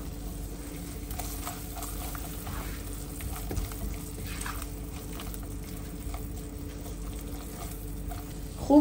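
Turmeric frying in a pan gives a low, continuous sizzle with faint scraping from stirring, ending with a brief sharper knock.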